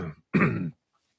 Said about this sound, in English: This would be the polite way of actually clearing your throat